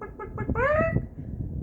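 A rooster or chicken gives a short, clear call of rising and falling notes, close by, after a few softer clucks, with faint background noise.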